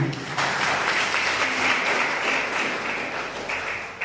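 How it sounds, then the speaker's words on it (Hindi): An audience at a school farewell function breaks into applause, dense clapping that starts abruptly and holds steady for several seconds. "मुझे लगता है इस लाइन पे तालियां आनी,"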